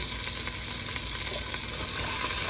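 Tomato sauce being stirred into a Puerto Rican beef stew with Spanish olives, a steady close sizzle and wet scraping that runs unbroken and fairly loud, with no talking.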